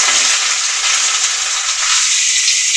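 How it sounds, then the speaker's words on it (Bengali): Chopped onion fries in a hot pan with a loud, close, unbroken sizzle and crackle that holds steady the whole time. "পেঁয়াজ কুচি দিয়ে দিচ্ছি।"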